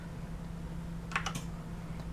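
A few quick key presses on a Corsair K65 RGB keyboard connected to a 2012 Mac Pro, soft, close clicks clustered in a short burst over a steady low electrical hum.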